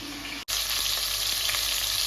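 Tandoori chicken fries in a pan with a steady, close sizzle broken by one very short gap, the crackle continuing evenly and loud with no talk.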